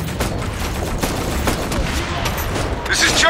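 Sustained gunfire in the military shooter Operation Flashpoint: Red River, a dense crackling fusillade of rapid shots running throughout, with a brighter burst near the end.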